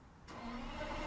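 A Toyota Century's engine fires up after a brief quiet moment, then settles into a smooth, low, even idle that swells slightly, close and fairly quiet.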